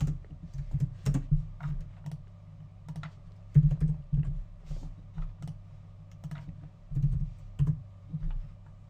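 Keys on a computer keyboard are typed in short irregular bursts, with crisp clicks and an occasional heavier keystroke, steady and close over a faint hum.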